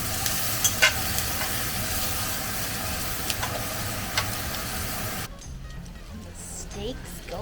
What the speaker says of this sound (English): The steaks go back in.